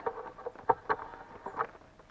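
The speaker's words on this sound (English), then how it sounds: "rain has been coming down all night." Rain falling on a forest campsite in a national forest, heard as soft, irregular pattering drops striking nearby surfaces, close and fairly quiet, with no talk.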